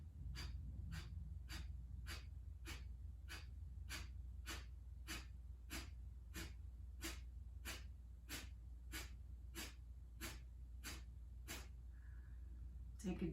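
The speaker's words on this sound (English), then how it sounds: "Short, sharp exhales." Kapalabhati pranayama breathing in a chest-opener pose: a steady run of about twenty short, sharp, forceful nasal exhales at an even rhythm, close and clear over quiet background hum.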